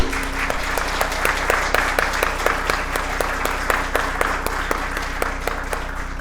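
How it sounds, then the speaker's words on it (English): An audience at a session on Omani fashion and tradition applauds a speaker, broad sustained clapping with a few distinct, evenly spaced claps standing out and some faint talk beneath. "We're going to give you a round of applause now."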